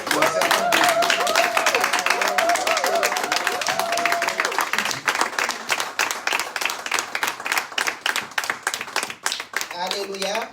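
A church congregation at a Sunday service breaks into sustained loud applause and cheering, with a voice and sung tones over the start before the clapping thins into scattered, rhythmic claps.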